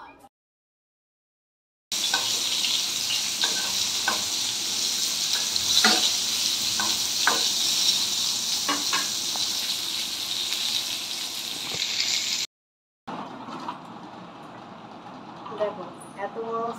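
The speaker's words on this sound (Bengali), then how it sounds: "তাই পটল ভাজাটা বসিয়ে দিলাম।" Slices of pointed gourd fry in hot oil in a wok, a continuous loud sizzle with scattered pops and crackles, broken by short silent gaps at the start and near the end.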